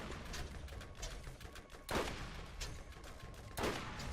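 Gunfire in the video game Borderlands, a steady patter of shots with two louder, sharper blasts standing out, heard fairly close with no talk.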